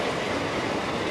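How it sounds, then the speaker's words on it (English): A South West passenger train passes close by, a dense steady rushing roar with faint rail clatter filling the whole short moment, no voices. "It's a South West train on time."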